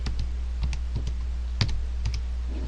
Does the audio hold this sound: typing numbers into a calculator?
yes